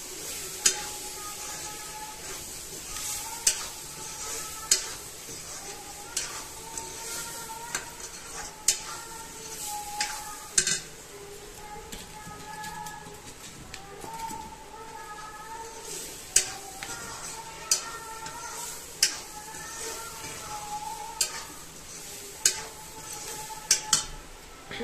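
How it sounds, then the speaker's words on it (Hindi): Spice masala cooking in a pan for a Rajasthani gonda curry, a quiet sizzle punctuated by frequent sharp metallic clinks and taps of a spoon against the pan. "मसाला पक रहा है गाइस इसके अंदर"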